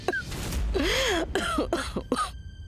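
A person coughs and clears their throat several times in quick succession, close and fairly loud, with short rasping bursts separated by brief pauses.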